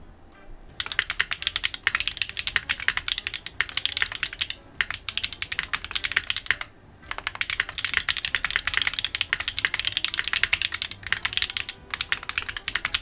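Rapid, steady typing on a mechanical keyboard with stock Owlab Neon switches, crisp clacky keystrokes in continuous bursts with two brief pauses, close and fairly loud, no voices.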